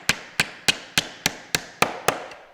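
A hammer drives nails into a wooden birdhouse in eight sharp, evenly spaced blows, close and crisp with short ringing decays and no talking.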